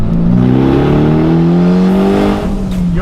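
A Mitsubishi Evo engine revs hard in second gear toward 6,500 rpm, its loud, steady note climbing in pitch for about three seconds with no talking.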